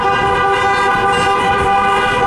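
Car horns in a wedding procession blare in a loud, continuous overlapping chorus of held toots, with road traffic underneath.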